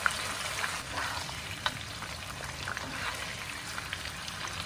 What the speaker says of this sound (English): Add prawns to the oil. Fry it around 1 minute each side on medium heat.